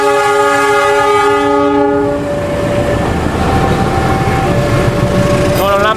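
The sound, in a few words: locomotive horn sounding on passing Sangkuriang train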